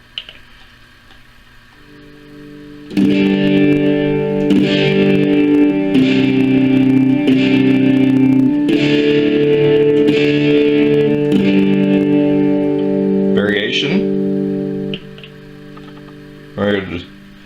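A distorted electric guitar through a Boss OD-20 pedal on its Distortion 1 setting plays sustained chords and single notes with a gritty, buzzing tone, ending with a couple of short picked phrases.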